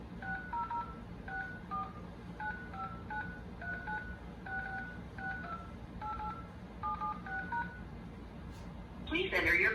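Telephone keypad tones dial in to check a card balance over the phone, a quick run of paired beeps in short bursts and pauses, faint over a low hum, followed by a burst of rustling at the end.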